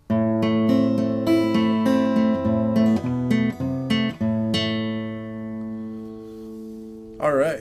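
Classical guitar playing the opening two measures of Giuliani's Allegro, a steady run of plucked notes and bass tones in even rhythm, close and clean, ending on a ringing chord with a short vocal sound at the very end.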